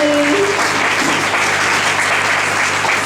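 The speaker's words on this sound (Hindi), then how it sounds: "सभी जोरदार तालियों के साथ दीदी का स्वागत करें।" Loud applause from an audience welcoming a guest at a Diwali gathering, dense continuous clapping that holds steady throughout with a brief tonal sound at the start.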